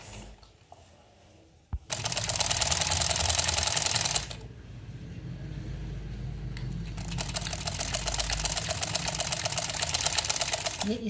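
Sewing machine stitching a top seam on a pant zip fly, running in two loud, rapid bursts separated by a pause, with a low motor hum under the steady needle chatter.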